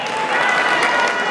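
Brief burst of applause from a carnival crowd at Cesano Maderno's Carnevale, dense hand-clapping held at a steady level with some crowd voices underneath.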